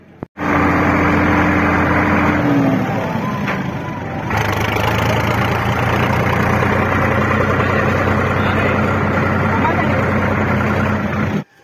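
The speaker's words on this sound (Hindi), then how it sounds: "यह है अपना bike hero Honda Splendor plus" Hero Honda Splendor Plus motorbike engine idling outdoors, a steady close putter that holds after a brief rev change, running alone for about eleven seconds.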